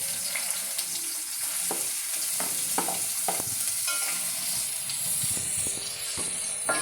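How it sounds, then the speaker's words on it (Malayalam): Onion sizzles and fries steadily in a pan for Thrippunithura-style chicken curry, with scattered stirring clicks and scrapes over the continuous hiss, close and fairly loud throughout. "ഞാനിപ്പോൾ ഇതിനകത്ത് സവാള ഇട്ടിടുന്നു."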